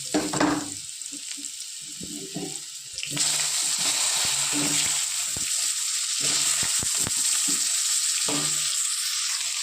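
Potato pieces hit hot oil already tempered with bay leaf and whole cumin, setting off a loud, steady sizzle that jumps up sharply a few seconds in and keeps crackling evenly, with occasional clinks, and no one talking.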